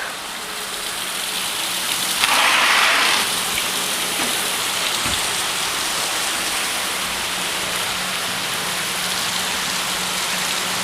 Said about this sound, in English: it's frickin' raining again.